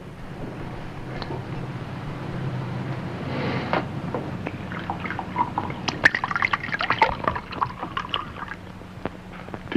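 A drink is poured into a glass, a trickle of liquid with small splashes and dripping that builds toward the end, alongside faint clinks and light handling noises.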